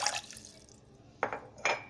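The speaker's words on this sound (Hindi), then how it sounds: "250 ml पानी को केटल जग में डाल देंगे" Water is poured into an electric kettle jug in short splashing bursts, close and fairly quiet, with a pause between pours.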